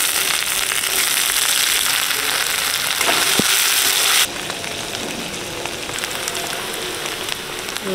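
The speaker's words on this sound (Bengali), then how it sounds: "পেঁয়াজটা একটু ভাজা ভাজা হতে হবে।" Onion, garlic and whole five-spice frying in hot oil in a pan, a loud dense sizzle for about four seconds that drops to a quieter crackle, steady throughout with no talk.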